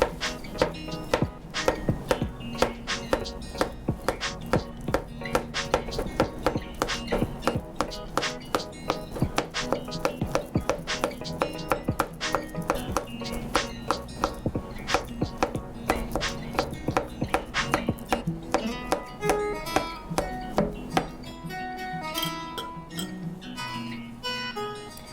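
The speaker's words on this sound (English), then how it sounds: "I like to chop my banana with a knife. I like to slice it really small." Steady knife chopping of banana into small pieces on a cutting board for banana bread, a long run of crisp, evenly spaced close taps with no speech.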